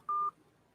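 A single short telephone dialing tone beeps once, clear and steady, over a quiet background with no talk.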